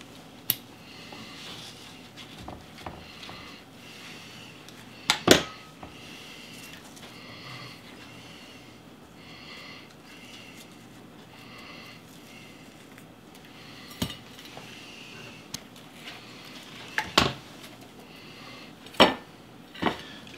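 Roasted carrots being dug out of a salt crust after 1.5 hours in the oven: quiet scraping and crunching of salt with a few sharp clicks and knocks spread across the stretch, no talking.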